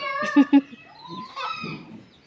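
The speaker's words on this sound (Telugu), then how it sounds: "ఇక మా కోడి పిల్లలు చూడురు ఆగమాగం చేస్తాయి" Hens and chicks cluck and cheep in a yard at a family home, with a couple of loud close clucks followed by softer, scattered chirping calls.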